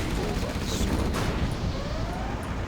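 Dense rocket fire in Command & Conquer Generals Zero Hour, a continuous roaring barrage of launches and explosions packed tightly together, loud and close with a faint whistling streak through it.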